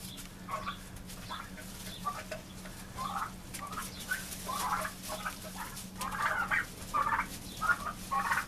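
A flock of domestic turkeys in a pen gives off repeated soft clucks and gobbling calls in irregular bursts, moderately close and fairly quiet, over a low steady hum.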